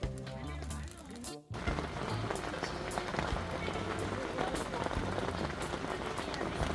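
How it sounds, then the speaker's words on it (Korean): Rain drums steadily on a tent at a roadside campsite at Saetbyeol Beach on Anmyeondo, a close, dense pattering. A voice is heard briefly at the start before the rain carries on alone. "본격적으로 비가 내리고 있습니다."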